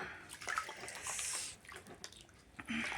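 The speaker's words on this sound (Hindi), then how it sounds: "थोड़ा सा मैंने पानी में नमक डाला और अपने पैरों को सेक रही हूँ।" Feet soak and shift in a basin of hot salted water on a cold early morning, producing close, wet sloshing and splashing with small drips, and no talking.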